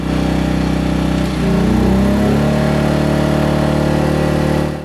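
A Predator 2000 generator runs close and loud under a heat gun load, a steady droning hum whose pitch shifts briefly partway through before settling into an even run.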